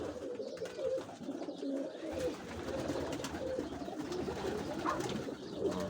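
Pigeons coo steadily in soft, overlapping calls, with faint rustling and chatter from a flock of about 180 birds close by.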